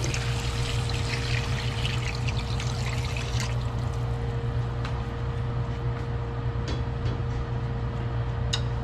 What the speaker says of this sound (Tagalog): atin na pong lalagyan yung sabaw po na ating pinaglagaan.